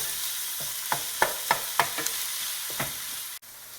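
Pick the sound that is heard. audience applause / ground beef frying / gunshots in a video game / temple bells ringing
ground beef frying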